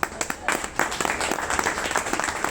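An audience at a seminar in Bhiwani, Haryana, breaks into uneven applause, with sharp individual claps standing out over a loose patter and voices mixed in.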